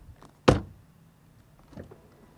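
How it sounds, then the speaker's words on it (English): A BMW 330e plug-in hybrid's car door shuts with a single solid thump close by, followed by a softer secondary latch or trim sound about a second later, with no talking. "Oh, by the way, door closing sound."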